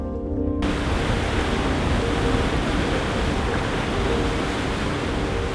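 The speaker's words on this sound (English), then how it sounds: "Together with Harm, he watches the bow cut through the waves." A steady, loud wash of rushing water and spray as a fishing vessel's bow cuts through waves, with icy wind noise and no pauses.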